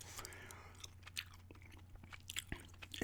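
Gum is chewed close to the microphone in soft, irregular wet smacks and crunchy bites, quiet and intimate, with faint low hum in the background.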